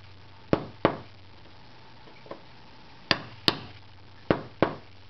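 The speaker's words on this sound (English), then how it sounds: "I got my regular hammer." A hammer strikes in sharp, distinct knocks, about seven blows in uneven pairs and singles, close by with quiet pauses between.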